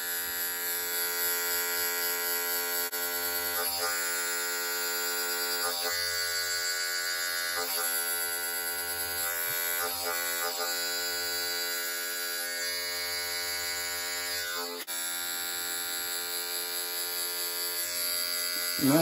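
An Andis Envy hair clipper fitted with a zero guard buzzes steadily and close through a home haircut, its motor hum dipping and shifting rhythmically as it passes over the skin, with no talking.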